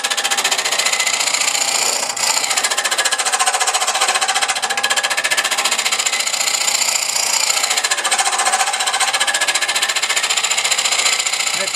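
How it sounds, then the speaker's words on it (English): Steady, continuous scraping from a shear scraper working a headstock handwheel on a wood lathe, a loud dense rasp that runs unbroken for the whole stretch with no talking. "But I'm going to shear scrape it."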